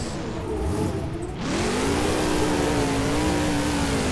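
A monster truck engine in the BeamNG video game revs loudly and steadily, its pitch climbing after a brief dip and then holding high while the truck runs over ramps in a freestyle run; no talking.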